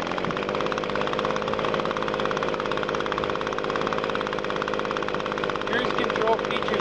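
Echo PB-250 handheld leaf blower engine running steadily after a first-pull start, a loud, continuous two-stroke drone with a dense buzzing rattle that holds level throughout.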